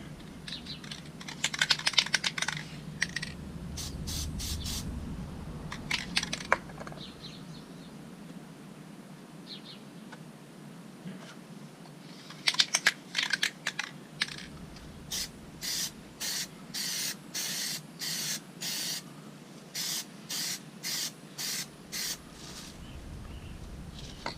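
A spray can of Plasti Dip hisses in short bursts, first in a few irregular clusters and then in a regular series of quick, evenly spaced sprays, close and loud with no talking.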